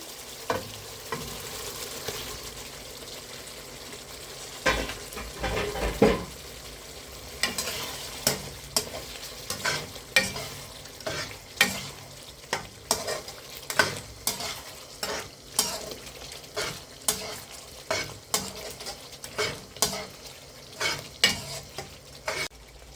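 Eggs frying and being stirred in a pan while making Kerala-style egg gravy, with a constant soft sizzle and regular scraping stirs close by, no talking.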